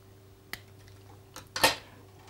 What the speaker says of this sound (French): je vais couper le morceau de fluoro qui dépasse